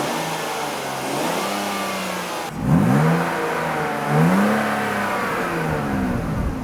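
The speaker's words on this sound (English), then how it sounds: "I take a seat in this car and just rev it a little bit." A 90s BMW car engine revved from idle, with two distinct rising-and-falling revs over a steady mid-pitched running hum, close and fairly loud.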